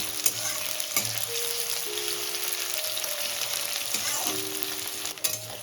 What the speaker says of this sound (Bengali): নিয়ে ওই তেলে দিয়ে দেবো কোচানো পেঁয়াজ